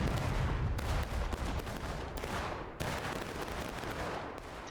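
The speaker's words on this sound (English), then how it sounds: "So now an extended shootout for the next little bit" Dense musket volleys crackle through a Civil War battle in War of Rights, a continuous stream of overlapping shots rolling near and far with sharp bursts breaking the din.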